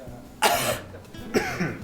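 Two harsh coughs, close up, each a sharp burst trailing off, separated by a brief pause.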